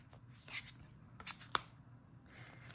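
Soft papery shuffling of a card deck in several short bursts, with light flicks and one sharp snap, fairly quiet and close.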